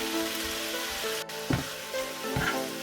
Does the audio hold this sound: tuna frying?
yes